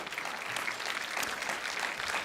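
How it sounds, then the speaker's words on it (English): Continuous, dense applause from an audience at a mountaineering organization's gala fills the space with a steady wash of many hands clapping at an even level throughout. "All right, give them a round of applause too."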